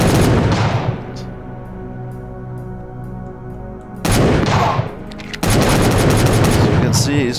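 Gunfire in a VR video game escape level, loud bursts of shots with booming impacts over a low rumbling background, dropping quieter for a stretch then returning strongly.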